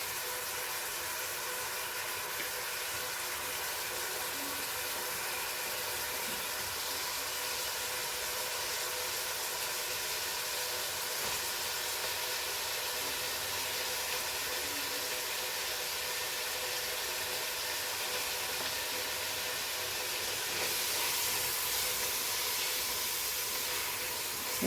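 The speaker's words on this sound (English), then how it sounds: "Now we will add our onions and fry this nicely." Onions frying in a pan for a Goan cocktail sausage pulao, a steady close sizzling hiss that holds evenly throughout and grows slightly brighter near the end.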